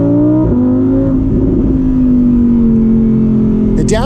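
A Lamborghini Huracán Evo engine revs loud and close on a straightaway, drops briefly at a shift, then climbs steadily in a sustained, rising roar.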